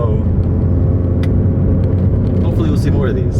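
A modified 2012 MINI Cooper JCW driving, a steady low engine and road rumble close by, with faint talk and chirpy sounds over it near the end.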